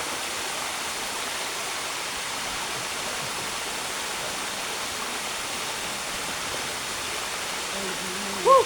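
A waterfall rushes in a steady, dense hiss, constant and close, with a brief voice at the very end.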